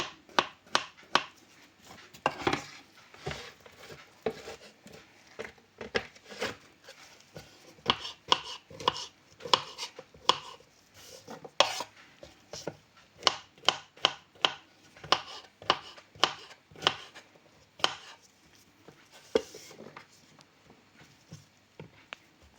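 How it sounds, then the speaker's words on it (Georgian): Knife finely chopping mushrooms on a board, a steady run of quick, close, crisp cuts in bursts with brief pauses, no voices. "ქამასოკოც უნდა დავჭრათ წვრილად"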